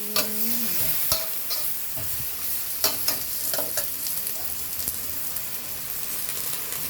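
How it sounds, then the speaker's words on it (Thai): Chinese kale stir-fried in a hot pan, a bright dense sizzle close by with a handful of sharp spatula scrapes and clinks, no voices. "ก็ใส่คะน้าลงไปค่ะ แล้วก็ผัดทีนึง ให้คะน้าสลดนะคะ"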